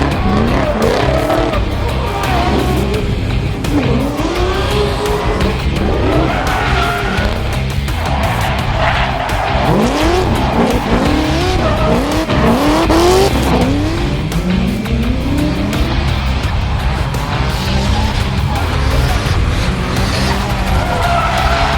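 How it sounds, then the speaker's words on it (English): Drift cars at a VICDRIFT drifting competition on the Thunderdome track at the 2015 Melbourne Jamboree howl with constant engine roar and long, loud tire squeals that rise and fall in repeated sweeps, with no break. "the guys from VICDRIFT were also running a drifting competition sponsored by XD Racing"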